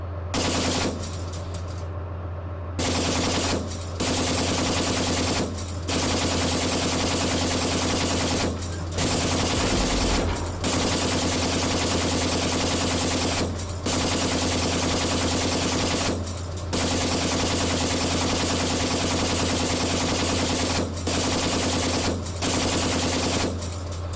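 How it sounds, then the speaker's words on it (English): Sustained automatic gunfire in a military video game, loud continuous bursts broken by short gaps, over a low steady engine rumble. "1-1, we're taking fire here"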